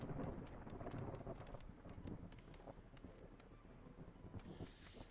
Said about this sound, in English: I think we gotta wait until next year because the storm is coming.